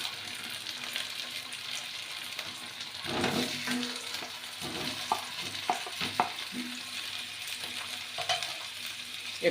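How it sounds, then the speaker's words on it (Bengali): Chunks of pressure-cooked colocasia and potato frying in a little oil, with a steady sizzle and intermittent scraping and stirring clatter from a spatula. "একটুখানি ভেজে নেব।"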